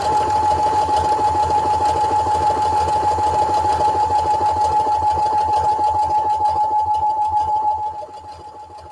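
A sewing machine runs steadily on decorative stitch number 14 with a loud, even mechanical whir and fast rhythmic stitching, then drops off to a quieter hum near the end.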